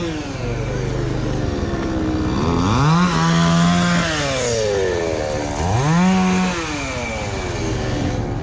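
A chainsaw whines steadily, its engine pitch dropping and rising twice as it bites into wood, loud and close throughout.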